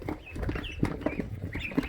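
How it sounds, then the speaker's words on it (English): Young ducks tipped from a bucket into a daytime playpen beside a vegetable garden give off a busy run of soft peeps and quacks, close and steady, with a few sharper calls standing out. "This is how you tip out a bucket of ducks."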